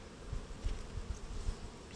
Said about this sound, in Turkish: Bir tane arı girdi.